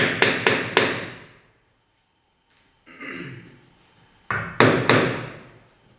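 A wooden block taps a joint of a metal-free wooden bed frame together: quick bursts of three or four sharp knocks, a pause, a softer scraping shuffle, then another short run of firm knocks, close and dry.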